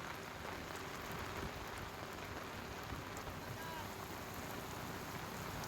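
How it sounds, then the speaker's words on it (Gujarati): Heavy, continuous rain pours in Narmada district, Gujarat, a steady dense hiss with no letup and no voices over it. "નર્મદા જિલ્લામાં મોડી રાતથી જ અવિરત વરસાદ વરસી રહ્યો છે"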